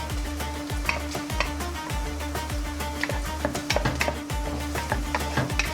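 Celery, garlic, onion and green garlic sizzle in olive oil and butter in a pot for soup, a steady frying hiss broken by regular scraping stirs and soft utensil knocks, close by and with no talking.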